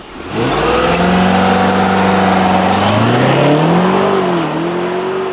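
A 2024 BMW X6 M60i engine revving, a loud, close mid-pitched roar that climbs, holds and swells again with rising and falling pitch, heard alone.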